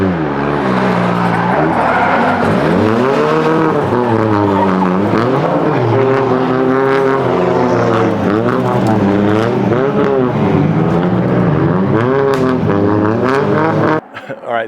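Drift cars come in hard on a Japanese mountain touge road at Gunsai, engines loud and near, with rising and falling revs and tire squeal as they slide past, continuous for most of the clip.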